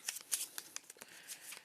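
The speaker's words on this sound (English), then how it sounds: "I'm going to shuffle my deck here." A deck of cards for the Lost Ruins of Arnak board game is shuffled at a table, giving quick, close riffling and snapping bursts in an uneven rhythm, with no talking.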